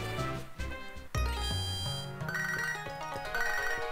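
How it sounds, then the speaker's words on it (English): A phone ringtone from the Pokemon Soul Silver video game chimes in a bright, repeating melodic jingle over layered game music, loud and close with no talking. "ignore that phone call from Ethan"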